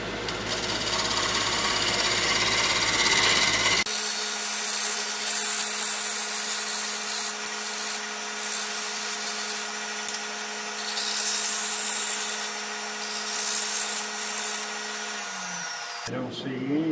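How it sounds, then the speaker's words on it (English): Square cutter with a two-inch radius shear cutting black gum wood on a lathe, a loud steady whirring hum with a constant tone, running for most of the stretch after an initial noisier start. "Do a little shear cutting right here for this."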